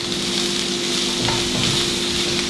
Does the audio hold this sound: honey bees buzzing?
no